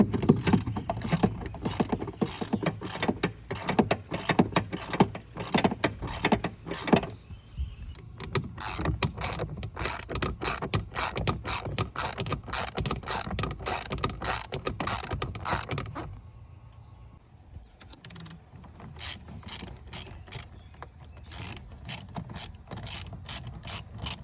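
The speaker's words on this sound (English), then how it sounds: "So let me go ahead and tighten that stuff down" A ratchet wrench tightening air intake clamps on a 2.7 EcoBoost Ford Bronco, rapid bursts of close mechanical clicking repeated over and over, with brief pauses between runs.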